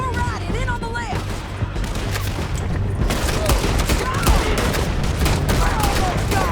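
Sustained gunfire in a canyon shootout in Red Dead Redemption 2, with rapid overlapping shots and booms that grow heavier partway through, under shouted voices and game music.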